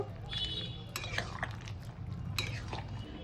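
A spoon scrapes and clinks against a pot while softened vegetables are stirred together with fried bori lentil dumplings for shukto. The metallic taps come irregularly and sound close but fairly quiet.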